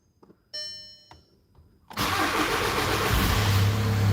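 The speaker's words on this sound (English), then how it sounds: "Start it up." Car engine starting after a few warning chimes from the dashboard, then the starter cranks and the engine catches into a loud, steady idle close by, with the mass airflow sensor disconnected.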